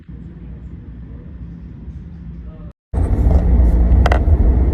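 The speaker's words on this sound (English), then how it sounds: "I'm currently driving home from my tire appointment" Car driving along a road after a tire appointment, steady engine and road rumble from inside the cabin, a brief drop-out, then louder road noise with a faint voice underneath.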